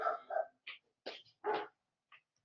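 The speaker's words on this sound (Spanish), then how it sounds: "el perro está ladrando" A dog barks in a series of short, separate bursts spaced irregularly over a couple of seconds. The barks are moderately faint and are heard alone, with no talking.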